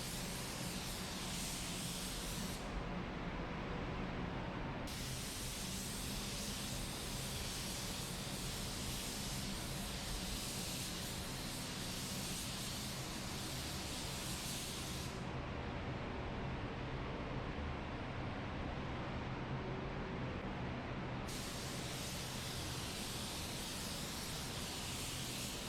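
Steady dense hiss of a spray gun laying clear coat on a 1966 Chevy Nova in a paint booth, running continuously with a few brief changes in tone as passes shift.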